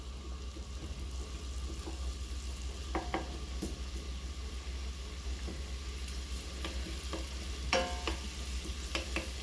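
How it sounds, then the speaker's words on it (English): Beef patty mixture with carrots sizzles steadily in a pan, a soft continuous frying hiss with scattered crackles and occasional utensil scrapes, close and moderately quiet, with no talking. "Now we sizzle. Now we cooking. Sizzle, sizzle."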